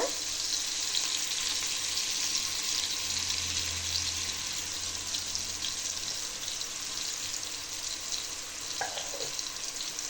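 Onions sautéing in hot oil in a pan for paneer biryani, giving a dense, even hiss of sizzling that holds steady throughout, with a faint clink of a utensil near the end, no talking.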